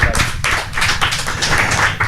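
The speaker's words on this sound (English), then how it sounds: "Round of applause again because we can." A live show audience gives a loud, lively round of applause that stays close and full throughout.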